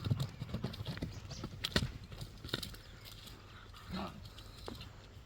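Hooves of a 1.60 m tall horse clip-clop in a steady, fairly close rhythm, with several sharp strikes standing out; someone talks quietly over the outdoor background.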